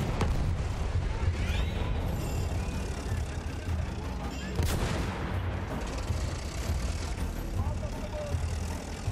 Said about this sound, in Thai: นี่มันปืนใหญ่นี่ว่ะ